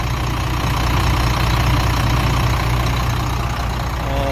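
A serviced truck engine runs at a steady idle after repair work on its wiring, a continuous loud low rumble holding even throughout with no voices over it.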